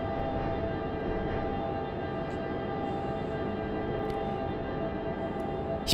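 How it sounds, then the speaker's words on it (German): Freight train in the Train Simulator 2016 video game, on a run from Cologne to Bonn, throttling up with a steady, dense low rumble and hum that holds evenly throughout. "Der Güterzug gibt auch gerade Gas."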